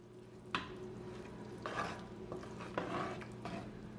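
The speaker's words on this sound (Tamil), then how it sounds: "இப்போ இதில் நல்லா மிக்ஸ் பண்ணி விடுங்க." Okra and prawn curry with coconut milk being stirred in a pot, producing a few scraping, clattering strokes over a steady low background hum, with no one talking.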